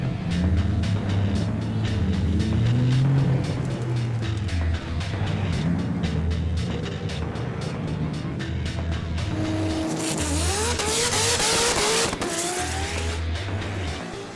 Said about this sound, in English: the very loud, very fast Nissan Skyline GTR of former winner Des Schoeman.